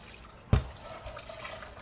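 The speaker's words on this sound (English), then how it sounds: "I'm going to wash this pot" A cooking pot is washed with water, a soft continuous trickle and splash close by with one sharp knock of the pot partway through.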